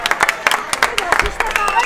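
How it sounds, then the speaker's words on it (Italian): An audience at an awards ceremony for a running race claps for a little girl, with quick uneven claps close by and voices chattering through it. "Ma facciamo un applauso a Chiaretta."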